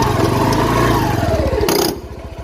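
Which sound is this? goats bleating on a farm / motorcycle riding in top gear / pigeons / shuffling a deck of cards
motorcycle riding in top gear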